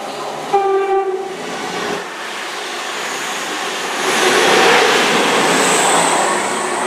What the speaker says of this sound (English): passing through now, we have a cross-country Voyager from Plymouth to York